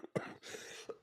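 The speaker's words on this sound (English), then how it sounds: "you may or may not have just heard me cough right there" A single short cough bursts out near the microphone, with a faint throat-clearing rasp and breathy noise around it.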